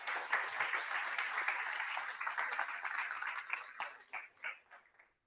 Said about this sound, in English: Nice applause for him, though.